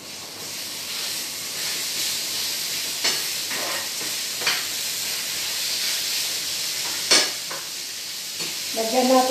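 Beef for stroganoff sizzles and hisses steadily in a hot pan, with occasional stirring scrapes and a brief clatter at the end, close and continuous.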